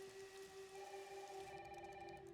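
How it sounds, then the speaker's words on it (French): Heavy rain pours steadily in the Resident Evil Requiem video game, a quiet continuous hiss beneath a faint sustained musical hum, with no talk. "il pleut vraiment des cordes."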